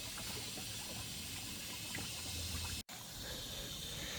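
Water flows through a valve and down into the cups of a Canvino poultry watering system in a chicken run, making a steady, even hiss and trickle that continues almost without a break.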